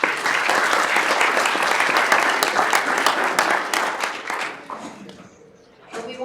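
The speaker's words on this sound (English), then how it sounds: "Let's give them a round of applause." Audience applause at a pitch event, steady dense clapping from a crowd that holds strong for several seconds, then thins and fades before a brief swell at the end.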